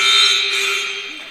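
A basketball game buzzer sounding at the end of a quarter in a high school gym, a loud, steady electronic tone held for over a second before tapering slightly.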